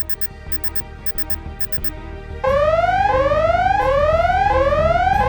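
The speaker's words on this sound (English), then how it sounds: "The alarm button is triggered." An alarm goes off in a children's police cartoon at a city cash storage building: rapid repeated electronic beeping bursts give way to loud, rising, sweeping siren wails that repeat steadily with no talking.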